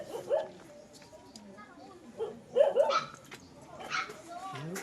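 A dog barks a few times, some of them fairly close, at a house in the Philippines where building work has stopped partway. People talk and call out over the barking.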